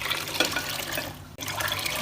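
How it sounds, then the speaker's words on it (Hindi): Water poured from a jug into a cooking pot while making chicken haleem, a steady close splashing pour that runs for about two seconds with one brief break near the end. "और इसके अंदर ऐड करूंगी मैं तकरीबन 2 जग पानी के।"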